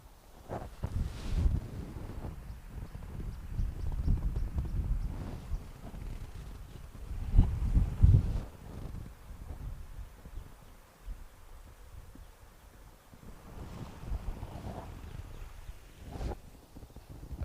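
Wind gusts buffet the microphone outdoors while fishing with winged termite bait, irregular low rumbling bursts that swell and fade, strongest around the middle, with a faint steady background.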